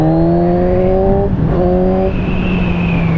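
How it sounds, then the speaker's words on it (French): A 2017 Kawasaki Z1000R motorcycle engine drones steadily under way, its pitch climbing then dropping twice as if shifting gears, loud and close with rushing wind and no talking. "Un moteur plein de vie."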